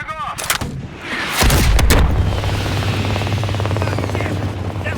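Heavy explosions and sustained gunfire in Call of Duty: Black Ops Cold War, a loud blast followed by a rumbling barrage with a helicopter-like drone underneath, a brief voice near the start.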